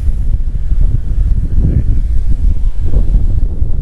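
Strong seaside wind buffets the microphone at Viña del Mar, a loud continuous rumbling roar with gusty surges throughout.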